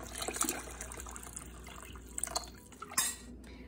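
About one and a half cups of water pour into a pot of coconut rice with coconut milk, a steady close splashing trickle with a few drips and a light clink near the end.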